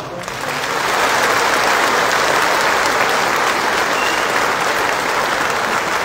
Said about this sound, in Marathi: सतीश मेटकरींच्यासाठी तुम्ही जोरदार टाळ्या वाजवा